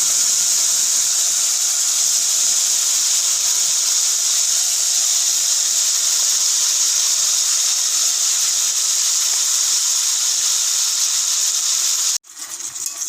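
Spiced mango pieces sizzle steadily in hot oil in a home kitchen as mango pickle is made, a loud, continuous frying hiss that runs unbroken for about twelve seconds, then cuts off abruptly and resumes more quietly.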